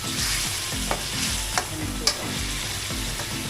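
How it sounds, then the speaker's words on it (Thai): Catfish stir-fried in a pan with sugar added, a steady close sizzle running throughout, broken by a few sharp scraping knocks of a spatula against the pan. "ใส่น้ำตาลลงไปอีกนิดนึงครับ ก็ผัดไปเรื่อยๆครับ"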